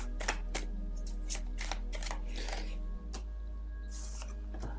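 Tarot cards shuffled and drawn at a table, a run of quiet, close, irregular flicks and slaps over a constant low electrical hum.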